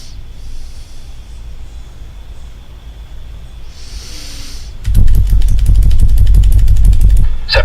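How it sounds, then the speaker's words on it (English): A Boeing 777 deploys reverse thrust on landing in Microsoft Flight Simulator 2020: a quiet cockpit hum gives way abruptly to a loud, sustained roaring rumble that holds steady to the end. "Reverse thrust."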